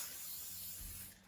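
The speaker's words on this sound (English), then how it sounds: "I use WD-40, and pretty much all I will do is bit of kitchen towel and I just" WD-40 sprays from an aerosol can onto a lathe drive centre in one steady, close hiss that trails off at the end, with no talking.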